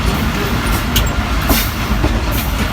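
Steady loud rumble inside a moving passenger train traveling from Mirpur Khas toward Shadi Palli, with continuous wheel and carriage noise and faint rhythmic clicks.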